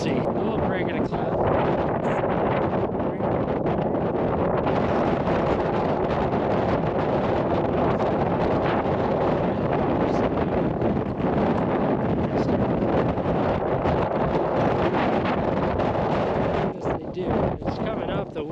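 Strong, steady wind roars and buffets the microphone on a snowy winter mountain during a snowstorm, loud and continuous throughout, with voices faintly beneath it.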